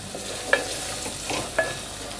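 Chopped bottle gourd frying in a pan, a steady sizzle running throughout with two brief scraping stirs of a utensil against the pan.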